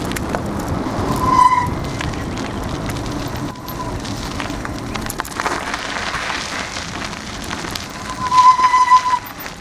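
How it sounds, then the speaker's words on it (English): Bicycle brakes squeal in thin high tones, once early and again near the end, over rough tyre and wind rumble while riding down through fields near a Japanese village. "Sorry about the squeaking of the brakes."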